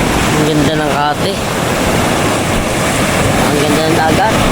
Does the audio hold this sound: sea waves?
yes